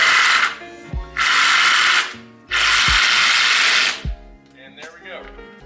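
A power drill drives a screw into a garage wall in three loud whirring bursts, each one ending in a thump. The drill is close up, and a quiet voice follows the last burst.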